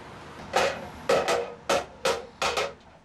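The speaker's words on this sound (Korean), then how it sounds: "여기다 이제 둥그렇게 이제 나무 망치 이런 걸 두들겨 가지고 1차로 이렇게 올릴 거예요." A wooden mallet beats a round silver plate to raise it into a teapot shape: five sharp, ringing strikes at an uneven pace, close and clear, with no voices.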